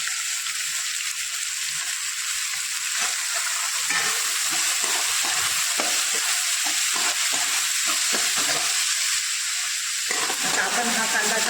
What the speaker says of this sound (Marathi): आपण हा कांदा चांगला गुलाबी रंगाचा होईपर्यंत परतून घेऊ.